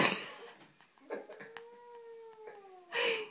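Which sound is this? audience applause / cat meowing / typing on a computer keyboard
cat meowing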